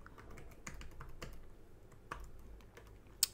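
Code is typed on a computer keyboard in quiet, irregular bursts of light, close key clicks, ending in one sharper, louder tap.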